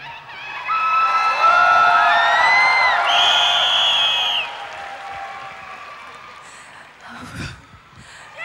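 A live crowd at the Hong Kong Ultimate Song Chart Awards cheers with high, rising shrieks and shouts over clapping for several seconds, then the noise drops away, leaving faint murmurs and a short burst near the end.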